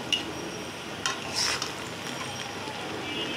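Okra with green chilies frying in a pan while being stirred: a steady low sizzle with a few scraping clinks of the spoon against the pan, fairly close and alone.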